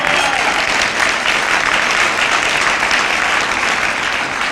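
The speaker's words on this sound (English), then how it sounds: "Can we give her a round of applause?" Loud, full applause from a large audience at a grantmakers' annual meeting, a thick continuous wash of clapping that stays strong and even from start to finish.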